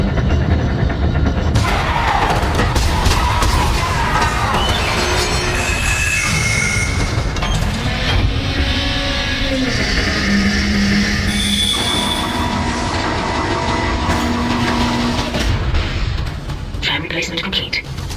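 Tram car moving through the station in the sci-fi horror game Dead Space, a loud continuous rumble with metallic rail squeals and clanks, layered with game ambience and spoken voice lines throughout.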